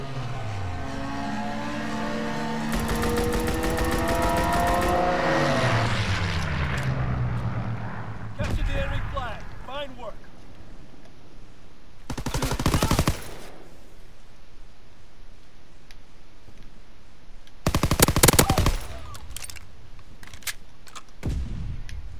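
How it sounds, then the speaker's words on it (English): A video-game fighter jet roars past on a strafing run, its engine whine climbing loudly. Two short, harsh bursts of machine-gun fire follow, separated by quieter game ambience. "Strafing run inbound."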